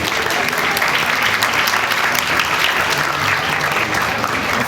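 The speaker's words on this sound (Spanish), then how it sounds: "Los despedimos con un fuerte aplauso." A crowd applauds a departing panel at the FILCO 2026 event, giving steady, loud, dense clapping that fills the whole stretch without a break.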